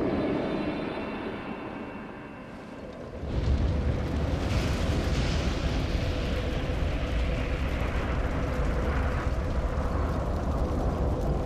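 Lord Souls being offered to the Firelink altar fire in Dark Souls: a quiet, low rumbling drone gives way after about three seconds to a sudden loud whooshing roar that swells and sustains as a dense, booming burst.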